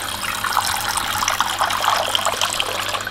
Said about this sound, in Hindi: तो धोने के लिए इसमें जो है ना फर्दर पानी हम डालेंगे।